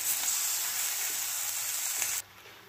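Spice masala roasts in a pan with a steady, loud sizzling hiss up close that cuts off abruptly near the end, with no talking.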